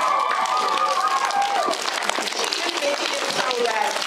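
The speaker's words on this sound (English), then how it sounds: "Can we give them a really big round of applause?" Audience applause for first-grade performers at a school share performance, a dense, steady burst of clapping from a crowd with scattered cheering and voices mixed in, filling the whole stretch at even loudness.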